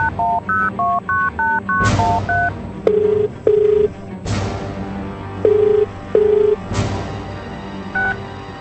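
Telephone keypad dialing in a radio drama: a quick run of distinct beeping tones, followed by a few longer lower tones separated by louder clunks and pauses, clear and close with no talk.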